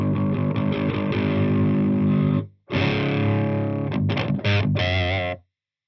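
Heavily distorted electric guitar through an amp with added pre-gain, loud sustained chords that cut off briefly, followed by choppy stabs and a final ringing chord before silence.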